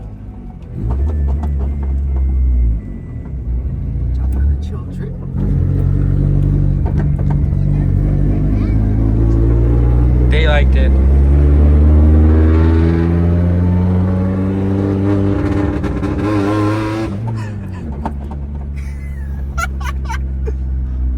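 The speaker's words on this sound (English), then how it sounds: "this is the worst sounding Honda I think I've ever heard in my fucking life" A cheap Honda project car's rough, bad-sounding engine revs up and down in repeated swells, loud and close throughout, while people talk over it.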